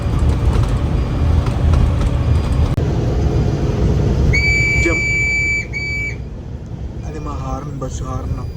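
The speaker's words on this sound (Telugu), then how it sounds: "Bus horn." An HRTC bus on the Manali to Jammu route sounds its horn in a loud two-tone blast of about two seconds, then goes quiet. A shorter honk follows over the engine rumble and road noise, with more horn-like tones fading near the end.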